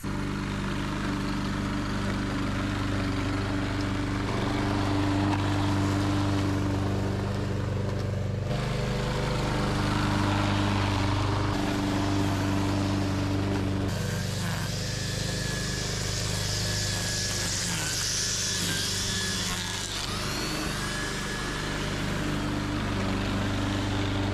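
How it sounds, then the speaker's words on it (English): A small lawn mower engine drones steadily throughout, loud and close, with its pitch and intensity shifting now and then as it moves across grass. "All right, little lawnmower, it's time. Let's do this."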